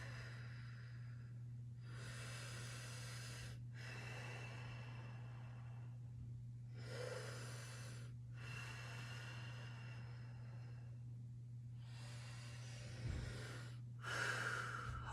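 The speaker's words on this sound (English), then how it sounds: "And we're going to move around and breathe" During a class exercise, people take slow, deep audible breaths in several long drawn-out waves, each lasting a second or more, heard faintly over a steady low electrical hum.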